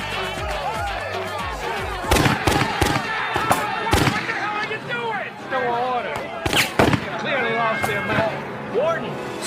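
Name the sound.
gunfire as the warden shoots at prisoners in a film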